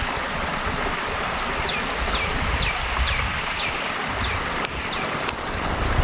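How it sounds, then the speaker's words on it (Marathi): Stream water flows at the source of the Manganga river in a steady, close rushing wash, with a few short bird chirps sounding above it. "हे असंच पाणी पुढं जातं आणि पुढं नदीमध्ये रूपांतर होऊन जातं"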